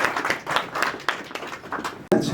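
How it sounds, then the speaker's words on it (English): Scattered audience clapping at a Canada–Nepal bilateral relations day celebration, a few hands tapping in an uneven rhythm that briefly swells, with some voices underneath. "Please give them a round of applause."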